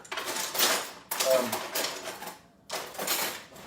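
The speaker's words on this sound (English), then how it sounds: "You gotta mix the meat." Dumpling meat filling being stirred in a bowl with three chopsticks gives close, busy clattering and squelching in two long bursts separated by a brief pause, with no talking.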